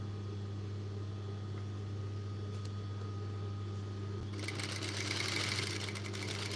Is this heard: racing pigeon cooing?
no